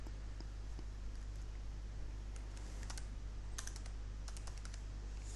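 Soft, faint keystrokes on a computer keyboard come in scattered short bursts as a keyword is typed, over a steady low electrical hum, with no talking.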